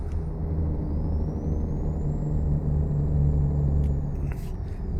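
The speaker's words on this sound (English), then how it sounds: "You got the Jake brake." A truck's Jake brake engine braking produces a loud, steady low rumble and drone that holds throughout, with a faint rising whine above it.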